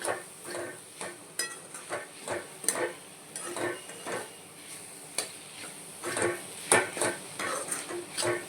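A spatula scrapes and clinks against a pan as sliced onion and bitter gourd are stirred with spices and a little jaggery, making irregular, close knocks and scrapes over a soft sizzle.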